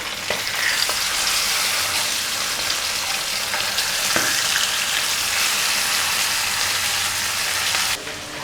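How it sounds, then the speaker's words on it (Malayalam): Fish frying in a pan for meen vazhayilayil pollichathu gives off a loud, close, continuous sizzle with scattered pops, then drops abruptly to quieter near the end. "അപ്പോൾ നമുക്കിതൊന്ന് ഫ്രൈ ചെയ്തെടുക്കാം."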